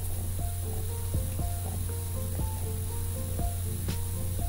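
Cumin seeds crackle in hot ghee for a Gujarati green turmeric dish: a steady sizzling hiss with a few sharp pops, over a constant low mechanical hum.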